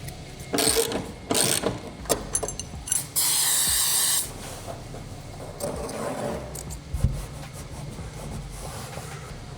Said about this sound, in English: I went and bought better spray glue